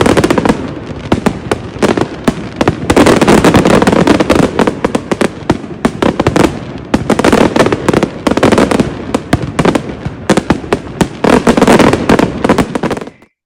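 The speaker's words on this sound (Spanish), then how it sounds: "Las mascletás sabéis que son petardos enlazados unos con otros y que una vez se enciende la mecha, pues va todo seguido" A mascletà of linked firecrackers goes off in rapid, unbroken succession, a loud, dense crackle of sharp bangs rolling on for over ten seconds with brief surges before cutting off abruptly.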